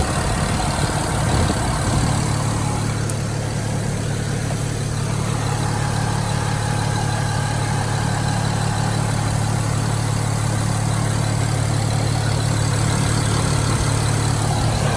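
An E92 BMW 335i idles steadily after a rebuild, with its cooling fan running. The engine gives a constant, close, even hum with a low drone underneath, and nobody speaks.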